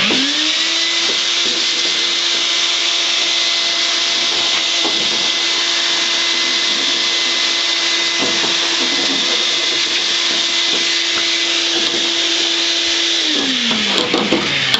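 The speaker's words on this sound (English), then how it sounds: "okay, we'll vacuum it really quick." A vacuum cleaner sucks up debris from the floor pan of a 1962 Ford Falcon during prep work, running loud and steady at close range for most of the time before winding down near the end, with no voices.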